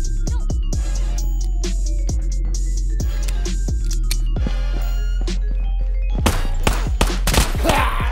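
Pistol shots ring out in Ghosts of Tabor, a run of sharp, loud cracks fired singly at uneven intervals, then a rapid cluster of bangs near the end, with no talk.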